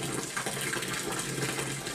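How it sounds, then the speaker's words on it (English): Mash water pouring and splashing into crushed grain during an all-grain ESB brew day, a steady, loud, close rushing gush with no break. "Getting that mash water all in the grain"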